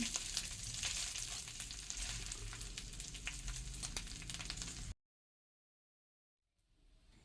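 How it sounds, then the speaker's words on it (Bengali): Basmati rice coated in ghee and turmeric fries with ginger paste in a hot pan, a dense, loud, continuous sizzle with stirring that cuts off abruptly into silence before faint sound returns at the end. "চালটা দু থেকে তিন মিনিট মতো খুব ভালো করে ভেজে নিতে হবে"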